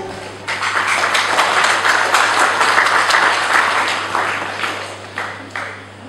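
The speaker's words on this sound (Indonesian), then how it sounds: "Mari kita berikan tepuk tangan" Guests at the wedding reception of Aaron and Levin give a burst of hearty applause close by, swelling and then tapering off toward the end, with a steady low hum beneath.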